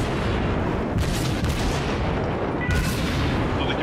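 Warship guns in the World of Warships video game fire amid constant loud battle noise, with a couple of sharp booming salvos standing out against the dense rumble.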